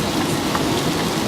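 Rain pours onto a car driving along a highway in a tropical storm, a dense, even hiss of drops over a low road rumble, steady throughout.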